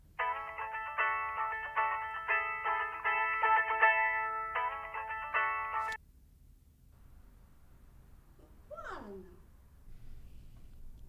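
Mobile phone ringtone going off during a meeting, a clear melodic electronic tune repeating for about six seconds, then cut off, followed by quiet room tone and a brief voice.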